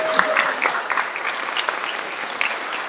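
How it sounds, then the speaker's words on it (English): An audience applauds steadily for Sabrina Jurisic at an evening program event, dense clapping of moderate loudness holding evenly for the full stretch with no talk over it. "give her a large, huge round of applause for Sabrina Jurisic"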